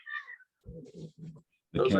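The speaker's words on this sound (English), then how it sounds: "cats. They're telling us not to end yet, guys." Cats meow several times, clear and close: one high meow at the start, then a loud, harsh meow at the end, with a person speaking briefly in between.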